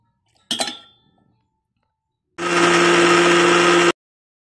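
A mixer grinder blends cucumber seed chutney with garlic in its jar. A sharp clink comes first, then a loud, steady motor whir runs for about a second and a half and stops abruptly, heard close with no voices.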